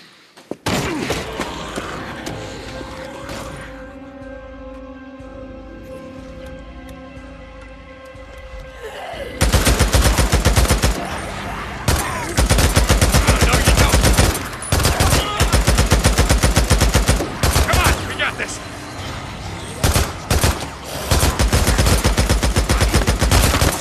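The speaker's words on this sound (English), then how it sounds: "Just keep up a steady stream of fire, all right?" Sustained automatic gunfire in Days Gone: after a quieter stretch of tonal ambience, a continuous, loud rattle of rapid shots kicks in and keeps going with brief gaps, close and dominant.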